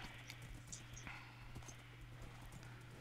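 A horse walks in the video game Minecraft with quiet, regular clip-clop hoof steps over a faint steady background hum, no talking.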